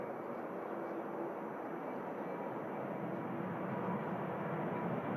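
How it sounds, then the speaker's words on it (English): A Jet2 Boeing 737-800 jet airliner at Manchester Airport: a steady, broad, distant engine roar that holds evenly throughout, no talk. "Jet2 737-800."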